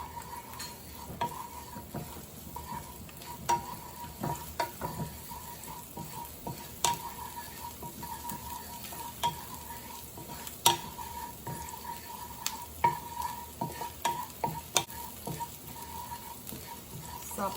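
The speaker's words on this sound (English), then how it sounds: "When the oil is hot, put in the garlic. You want to saute the garlic only until fragrant" Garlic sizzles steadily in hot oil in a pan for a bok choy stir fry, a continuous close frying hiss broken by frequent light utensil taps and stirring.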